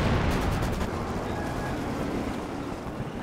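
A Katyusha rocket artillery barrage in Company of Heroes 2 rumbles as a dense, continuous roar, loud and sustained, with crackling bursts layered through it.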